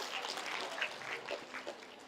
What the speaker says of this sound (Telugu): క్లాప్స్ కొట్టుకోండి మనకి